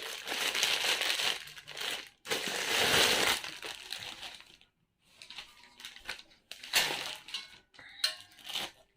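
Loud plastic crinkling and crushing in several bursts, with short pauses between, close by and with no voices.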